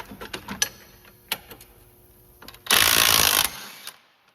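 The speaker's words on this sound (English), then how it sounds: "see if this gun's gonna do it, but we've got a big wrench to hold the bolt while we take the nut off" Impact gun removing a strut nut on a 2009-2013 Toyota Corolla front strut, giving a short loud rattling burst of about a second after scattered clicks and clanks of tools, close and alone.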